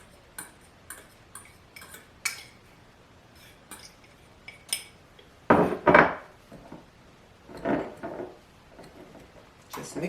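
Breadcrumbs, butter and grated Parmesan are mixed in a small bowl, giving sparse taps and scrapes of a utensil against the bowl, a few louder clinks in a cluster, close and quiet.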